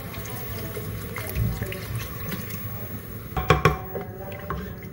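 Water is poured into a pot of chicken korma, giving a steady splashing and gurgling wash with a few sharper clinks and splashes toward the end, fairly close and moderate in level.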